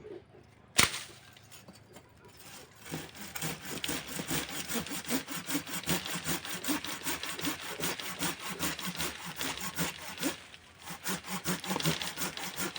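A folding hand saw rasps steadily through wood in quick, even back-and-forth strokes, close and continuous for most of the clip after a sharp knock.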